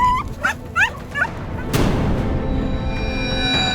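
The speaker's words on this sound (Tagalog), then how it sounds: "Pagbukas sa mga sako, tumambad ang 3 aso na takot at nanghihina" Three frightened, weakened dogs tied in sacks on a motorcycle sidecar give a few sharp, rising yelps and whimpers in quick succession, followed by a loud thump and a lingering low rumble.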